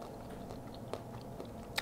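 Someone chews a juicy, crunchy snack of berries, hemp hearts and nuts at close range, with soft wet mastication and a few sharper crunchy bites standing out.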